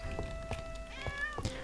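A cat meows when petted in The Stout Cauldron, a tavern-management video game, giving a couple of short, close cries over a steady background of game music.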